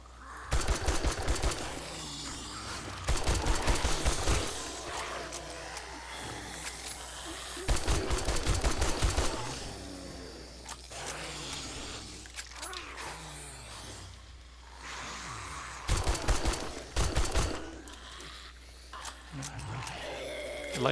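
Gunfire from the video game 7 Days to Die comes in several short, rapid bursts, fairly faint, between quieter stretches of game background noise.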